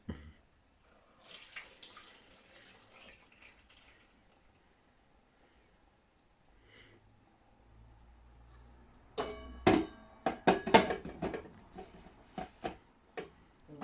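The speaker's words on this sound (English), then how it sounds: "Just drain the milk." Milk drained off freshly churned butter made from whipping cream, quiet trickling at first, then a run of close, sharp splashing and dripping bursts near the end.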